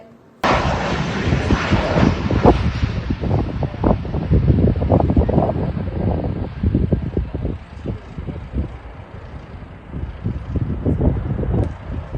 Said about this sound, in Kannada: ಭಾರತೀಯ ವಾಯುಪಡೆ ವಿಮಾನ ಹಾರಾಟವನ್ನು ಪ್ರಾಯೋಗಿಕವಾಗಿ ಆರಂಭಿಸಿ